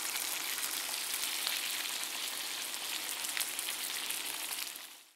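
Ahi tuna steak coated in sesame seeds sears in a pan, giving a soft, dense, continuous sizzle with faint crackles that fades out at the end.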